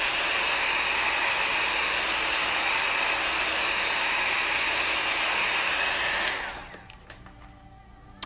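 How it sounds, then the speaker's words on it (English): A heat gun blows a steady, loud hiss of hot air over wet paint in a Bible journal for about six seconds, then cuts off, leaving faint taps and clicks. "So let me hit this with a heat gun one more time."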